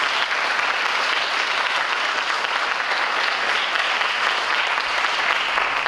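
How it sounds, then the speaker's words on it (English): Sustained applause from an audience at a junior police academy graduation, honouring the instructor team; steady, dense clapping that fills the room at even loudness throughout, with no talk over it. "Round of applause for the team."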